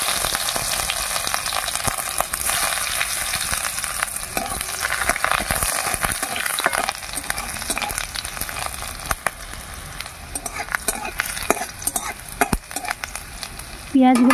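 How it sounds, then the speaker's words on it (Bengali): Chopped onions and dried red chillies fry in mustard oil in a wok, a steady close sizzle with bursts of crackling and occasional stirring scrapes running throughout, no talking. "পেঁয়াজগুলো হালকা করে ভেজে নিলাম"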